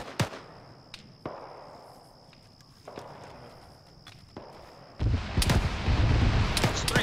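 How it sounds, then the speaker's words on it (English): Automatic grenade launcher (AGS) fire during a military field training exercise: a few sharp, distant reports spaced a second or so apart, then a sustained loud roar of outdoor noise in the final seconds, with no talking. "I'm hearing another AGS fire."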